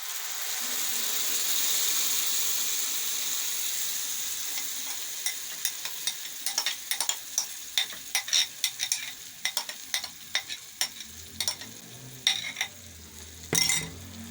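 Tomato puree stirred into softened garlic and onion in a pan for pizza sauce: a faint low sizzle at first, then a quickening run of scraping, clicking spoon strokes against the pan.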